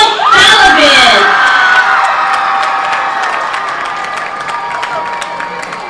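A crowd cheers and whoops at a school homecoming football game between the Aldine Nimitz Cougars and MacArthur Generals, loud shouts at first with children's voices, then settling into sustained applause and fading cheers.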